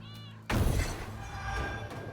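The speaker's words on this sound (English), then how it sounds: "I also hear a cat." A cat meows in the video game South of Midnight: a short tonal call, then a louder, fuller stretch of cat-like sound that carries on at a steady level for about two seconds.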